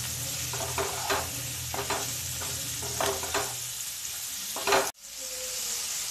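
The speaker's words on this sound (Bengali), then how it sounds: "এইখিনি মই হাই ফ্লেমত ফ্রাই কৰিম" Cauliflower and potato pieces fry on a high flame, a steady close sizzle with repeated scraping stirs of a spatula, ending in a brief clatter and a quieter sizzle.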